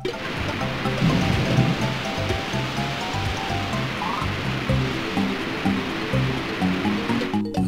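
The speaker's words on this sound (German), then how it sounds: "Ich werde das Wasser für den Bären ablassen." Water rushing and draining in Banjo-Kazooie, a steady loud gushing wash under soft plinking game music throughout.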